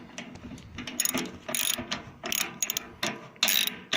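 Bolts coated with thread locker being threaded and started on a washing machine under repair, heard as close, irregular ratcheting clicks and metallic turning bursts, with no talk.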